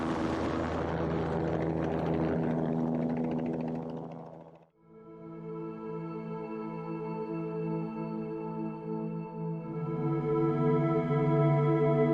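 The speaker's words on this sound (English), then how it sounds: "The fixed wing and helicopter have just gone up into the sky" A helicopter and a fixed-wing aircraft climb away over Kruger National Park, their steady engine and rotor drone loud and continuous, briefly dipping before a tonal propeller hum takes over and swells again.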